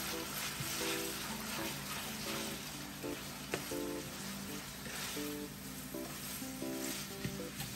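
Olive oil sizzles steadily in a hot pan, a continuous close crackle and hiss with small pops that holds for the whole stretch, with no voices.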